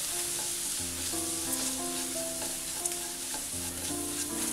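Turmeric, coriander and chili powders fry in oil with a continuous, gentle sizzle, while soft background music with steady tones plays underneath.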